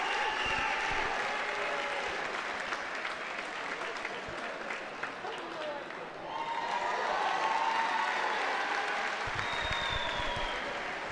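Applause and cheering from the crowd at a high school wrestling dual meet between Melrose and Wakefield, sustained loud clapping filling the hall, dipping briefly midway and then swelling again.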